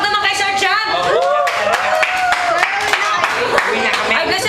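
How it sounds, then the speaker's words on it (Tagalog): Sharp, uneven hand claps at a reunion gathering, loud and close, mixed with overlapping voices and cheerful exclamations throughout. "Palakpak naman kay Sir Chan."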